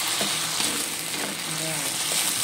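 Sauce is added to a sizzling stir-fry of snow peas, Chinese sausage and fresh mushrooms, giving a loud, steady hiss of frying throughout with some faint stirring clatter.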